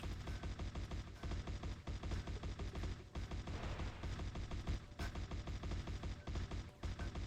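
Rapid, steady gunfire rings out while a boss is shot in the game HIG 22 DIRT Origin of Species, a dense, loud volley of repeated shots running almost without pause the whole time.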